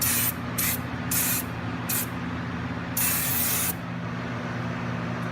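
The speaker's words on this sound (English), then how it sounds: "You just spray it on." An aerosol brake cleaner can sprays onto rear brake parts of a 2013 Dodge Charger in four short hissing bursts and one longer blast, loud and close, over a steady low hum.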